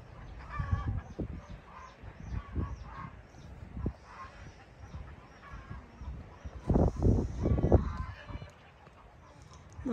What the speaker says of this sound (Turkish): Bunlar da gezen tavuk